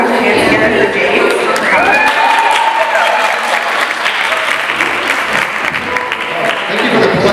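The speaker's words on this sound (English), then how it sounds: "Thank you for the clapping." A crowd at a stand-up comedy event for a mothers' group claps steadily and loudly throughout, with cheers and a few shouts mixed into the dense applause.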